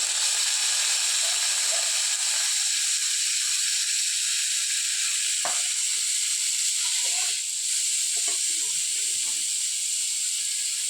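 Dima leaves hit hot oil already tempered with two green chillies, releasing a loud, steady frying hiss that runs unbroken throughout, with faint clinks of the pan underneath.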